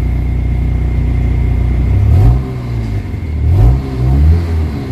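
A Kia Pride engine idles steadily after repair, then revs up twice in smooth swelling bursts before settling back, loud and close with a low mechanical rumble and no talk.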